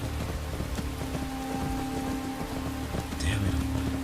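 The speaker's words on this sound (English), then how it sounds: "It started raining." Rain patters steadily in the Skyrim video game ahead of a storm, a constant wash of drops with a low background hum and a brief higher tone near the end.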